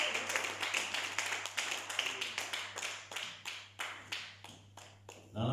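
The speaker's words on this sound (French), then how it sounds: "Acclamez pour la gloire de Dieu." A church congregation clapping together during a French-language service, a dense run of many hands in steady rhythm that thins into looser scattered claps and briefly fades before a final burst, with faint voices underneath.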